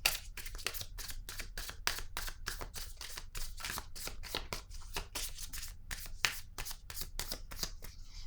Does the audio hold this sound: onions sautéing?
no